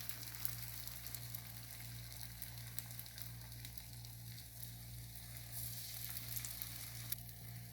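Beaten egg cooks on very low heat in a pan, producing a steady, even sizzle that hisses continuously at low volume, with a faint low hum underneath and no talking.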